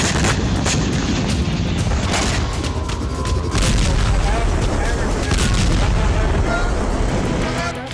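Rocket strikes on residential areas in Israel during Hezbollah attacks, heard as a dense, continuous roar of booms and rumbling blasts that stays loud throughout with no speech.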